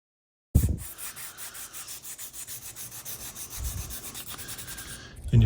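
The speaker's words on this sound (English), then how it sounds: "So get it wet and let's sand it out." Wet sandpaper rubs rapidly back and forth over a resin 3D printed model car body, a close, continuous raspy scrubbing in quick even strokes with no talking.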